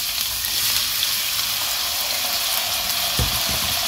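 Lughmeh kebab, a Tabriz dish, fries in a hot pan with a loud, steady sizzle and crackle, close up and continuous, with a couple of soft knocks near the end.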